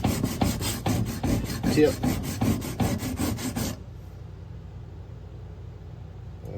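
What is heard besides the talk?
sharpening a skinner knife edge to pull a burr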